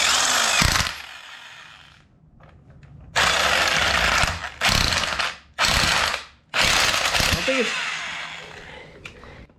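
Impact wrench driving a crank bolt on a project car, four loud bursts of rapid hammering of varying length separated by short pauses, heard close up.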